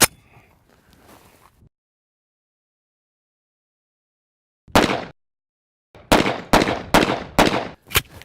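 A double-barrel pistol fires a single sharp report after a stretch of silence, then a rapid string of loud, close shots in quick succession.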